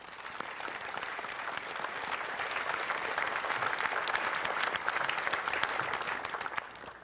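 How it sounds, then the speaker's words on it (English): Audience applause for veterans at the Pearl Harbor Remembrance Day ceremony, a broad sustained wash of clapping from a crowd outdoors, swelling slightly and holding steady for several seconds. "A round of applause for them."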